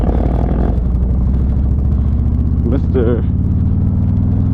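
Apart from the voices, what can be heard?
Harley motorcycle riding in first gear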